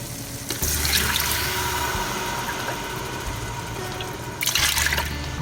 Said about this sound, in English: To the roux, add 4 cups of milk.